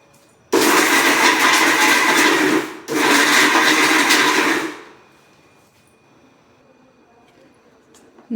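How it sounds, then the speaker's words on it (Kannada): A kitchen mixer grinder whirs loud and close while grinding turmeric, salt and Byadagi chillies into spice masala for a bangude fish curry, running in two long bursts with a brief pause between, then stopping. "ಇದನ್ನು ಮಿಕ್ಸಿ ಮಾಡ್ಕೊಳ್ಳೋಣ"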